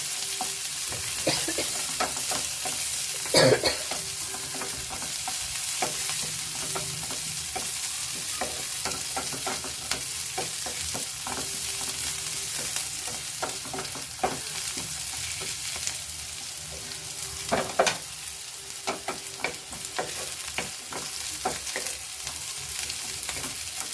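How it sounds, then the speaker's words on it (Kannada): Village-style chicken curry masala frying in a pan, a constant soft sizzle broken by sparse spatula scrapes and knocks, close by and moderately quiet with no talking. "ಇದು ಸ್ವಲ್ಪ ಫ್ರೈ ಆಗಲಿ."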